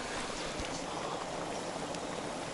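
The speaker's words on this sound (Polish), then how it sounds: "tu jest wrzątek" Hot water bubbling and churning in a thermal stream at Waiotapu, a steady close wash of broadband gurgling and hiss with no pauses.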